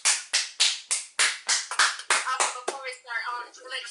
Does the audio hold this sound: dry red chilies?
no